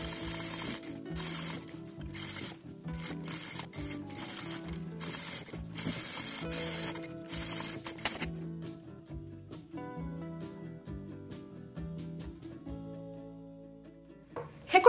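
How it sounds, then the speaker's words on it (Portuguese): A sewing machine stitches around the lining of a pleated bag in bursts of rapid mechanical whirring, with short pauses between runs and a brief backstitch, heard close and fairly quiet with no talking. "Agora eu vou passar uma costura com a distância de um pé de máquina, começando aqui, dou retrocesso, costuro toda a volta"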